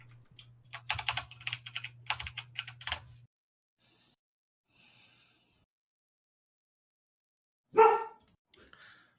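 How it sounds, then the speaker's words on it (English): A dog barks once, loud and close, in a short burst near the end, after a run of keyboard typing under a steady low hum and a few faint noises in an otherwise quiet room. "Oh, hush dog."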